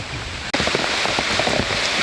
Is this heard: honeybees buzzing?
no